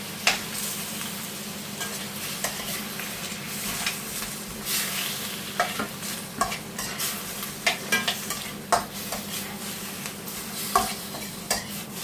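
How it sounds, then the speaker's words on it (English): Pork browning in a hot pan during a stir fry, with a steady close sizzle and irregular stirring scrapes and knocks of a utensil against the pan, no talking. "So all I'm going to do is brown the pork"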